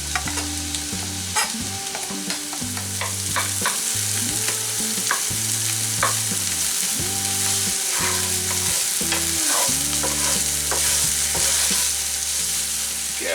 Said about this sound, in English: So I've got a pan on, a little bit of olive oil, and we'll get our onions in.